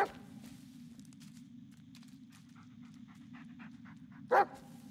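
A dog pants steadily and close throughout in the horror video game Blair Witch, with faint footsteps, then one short loud bark near the end.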